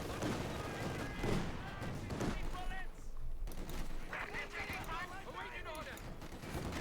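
Mortar blasts and rifle and machine-gun fire in the World War II strategy game Company of Heroes 2, a dense continuous battle din of shots and explosions under steady commentary.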